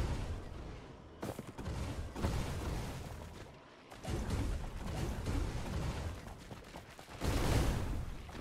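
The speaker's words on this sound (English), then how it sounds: "All explosions going off." Explosions and gunfire in a video game rumble and crack in repeated bursts, with deep booms and brief gaps between volleys at moderate, uneven loudness.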